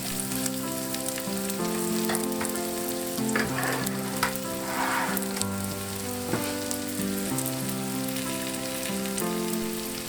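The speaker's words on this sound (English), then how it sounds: "Dredge the chops in the breadcrumbs and place into the pan." Breadcrumb-coated pork chops frying in a pan of hot oil beside potatoes, a steady close crackling sizzle with continuous spattering and no voices.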